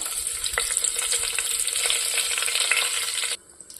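A sprig of curry leaves sizzles and crackles in hot coconut oil inside a pressure cooker, a dense, close, steady frying hiss with scattered pops that cuts off abruptly near the end.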